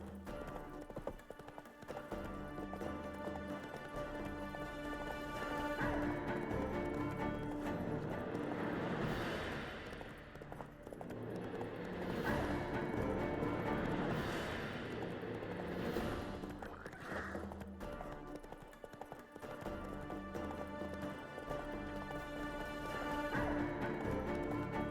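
Roach, a horse in The Witcher 3: Wild Hunt, gallops with steady clip-clop hoofbeats under a dense, continuous game soundscape with music, loud and unbroken throughout.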